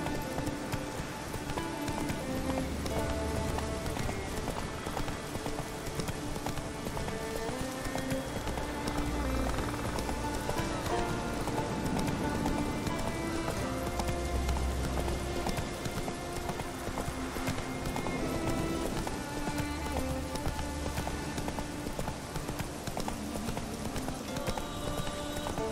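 A horse gallops through rain in The Witcher 3, its rhythmic hoof clip-clop pounding steadily and close over a continuous patter of rainfall, with faint game ambience throughout.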